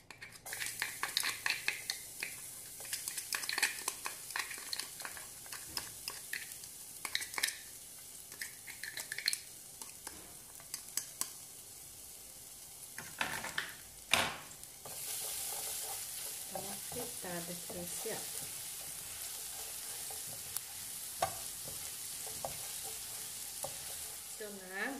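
Garlic sizzles and fries in a pan with melted fat, a steady crackling hiss running throughout, punctuated by occasional stirring and scraping clatters of utensil against the pan.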